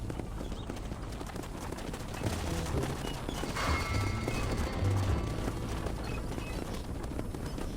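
Several horses galloping in the Red Dead Redemption video game, a steady clip-clop of hooves that carries on throughout at moderate loudness, with music or ambience mixed underneath.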